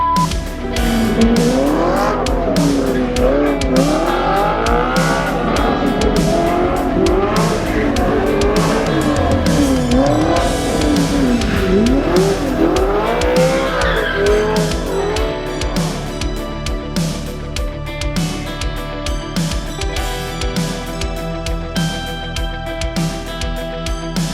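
An Audi R8 driven hard around a race track, its engine revving up and down in sweeping surges while tires squeal through the corners, loud and close throughout.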